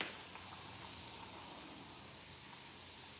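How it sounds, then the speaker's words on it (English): Plain water sprayed from a spray bottle, a steady breathy hiss that starts at once and holds evenly throughout, close and fairly faint with no talking. "we're gonna spray."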